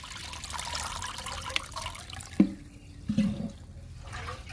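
A liquid plant fertilizer made from lentils, groundnut cake, tea powder and egg powder is poured through a filter into a 10-litre bucket, making an uneven watery trickle with a few louder splashes.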